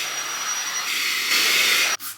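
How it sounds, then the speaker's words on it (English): A Bosch Unlimited 7 cordless vacuum cleaner goes over velvet sofa cushions with a steady close airy whine that rises in pitch partway through, then cuts off abruptly near the end. "I'm just going to give it a little bit of a hoover with my favourite new vacuum cleaner."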